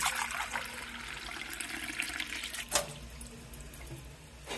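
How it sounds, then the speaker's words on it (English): Water pouring and splashing into a pot at close range, a steady rushing stream that briefly surges then settles, with no talking. "Just put in a tiny bit of water."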